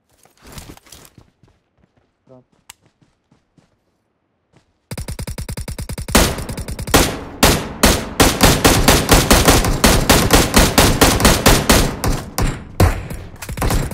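Video game gunfire: a few scattered shots at first, then after a brief silence a long run of rapid, loud automatic bursts with no talking.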